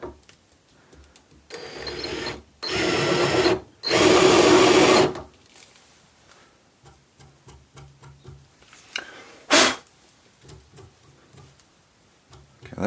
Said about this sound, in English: Helps if you set your drill running the right way.